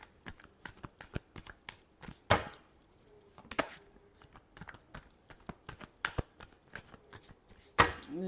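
Tarot cards are shuffled by hand, producing a quick run of crisp, irregular riffling taps and snaps, with a few louder slaps standing out, close and dry with no talk.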